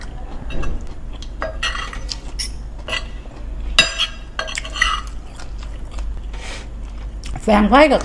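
Khanom jeen rice noodles with fish curry are being eaten close up, with wet chewing and slurping mixed with clinks of cutlery against dishes, while a person talks at intervals.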